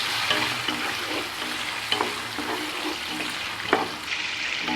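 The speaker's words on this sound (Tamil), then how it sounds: "தக்காளி வந்து நல்லா வதங்கணும்." Tomatoes sautéing in a pan for mutton biryani give a steady close sizzle with repeated stirring scrapes and small clinks, and no voices.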